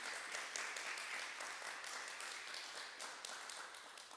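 A church congregation applauds in a steady, even wash of clapping that carries on throughout, heard faintly at a distance.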